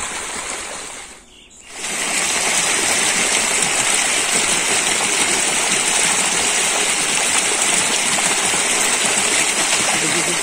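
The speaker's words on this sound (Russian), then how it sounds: "Дальше река уже пошла более спокойной." The Baga River in the Baidar Valley of Crimea flows over rocks above a three-cascade waterfall, a loud, close, continuous rushing and gurgling that briefly dips before surging back steadily.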